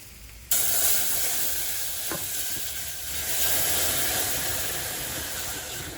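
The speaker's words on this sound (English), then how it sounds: "You have to keep stirring this." A milk sauce for moussaka is stirred in a hot pan, giving a continuous soft sizzle and hiss with faint scraping, close and steady after an abrupt start.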